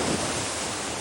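Storm surge from a hurricane churns in a broad, steady roar of surf and wind, dense and continuous over a brief stretch with no voices.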